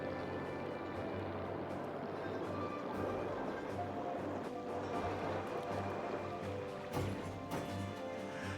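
A plane engine runs steadily in the video game The Brew Barons, a continuous low droning hum with no talk over it.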